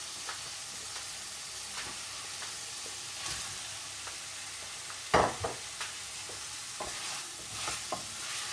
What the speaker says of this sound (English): So I'm going to chuck the veg in there.